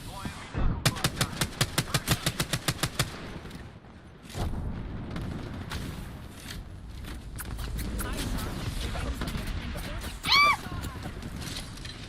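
Rapid bursts of automatic gunfire crack out in a fast rhythmic string within a video game, then give way to scattered shots, rumbling booms and a brief ringing electronic tone.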